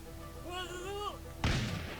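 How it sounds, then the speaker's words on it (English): A volley of musket fire from line infantry in the Totally Accurate Battle Simulator video game, a loud dense burst of crackling shots arriving abruptly after a stretch of tonal music and carrying on as a sustained rumble. "In go the volleys."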